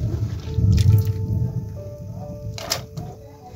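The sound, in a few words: water being poured into cooking pot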